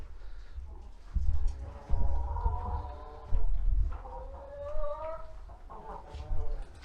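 Several chickens in a coop cluck and murmur nearby in short, irregular bursts, with occasional soft thumps and rustling.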